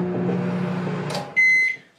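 A microwave oven hums steadily, then a door clunk or click and a loud, clear electronic beep tone ring out close by before fading to quiet.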